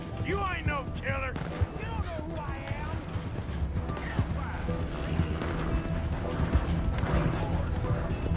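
Galloping horse hooves in the Western video game Red Dead Redemption 2, a steady rhythmic clip-clop over game ambience, mid-distance, with brief voices and some mechanical clatter mixed in.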